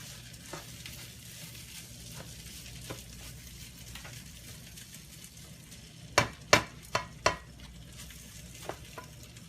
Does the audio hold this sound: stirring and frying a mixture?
yes